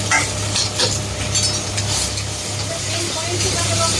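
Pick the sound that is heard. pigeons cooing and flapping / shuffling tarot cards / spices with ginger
spices with ginger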